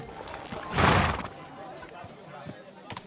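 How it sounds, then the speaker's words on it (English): In the medieval game Kingdom Come: Deliverance 2, a horse gives one loud, breathy whinny about a second in, followed by faint hoof clops, all brief and close. "Right, so where's the noble steed? Is this my horse?"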